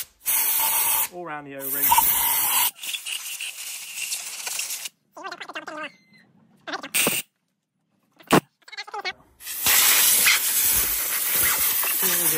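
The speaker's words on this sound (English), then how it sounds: "So with an airline, what you want to do is, well, what I find easiest is blasting this out." Compressed air from an airline blasts a fuel filter housing clean on an Iseki TH4335 tractor, giving loud, close hissing bursts of varying length separated by pauses, while someone talks briefly between blasts.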